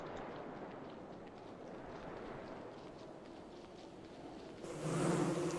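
A faint, continuous buzz of bees in the video game Don't Starve drones steadily, swelling louder and brighter for the final second.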